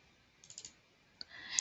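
Computer mouse clicks during software administrator training, a few quick faint clicks in a short cluster followed by one sharper click, heard alone in a quiet room.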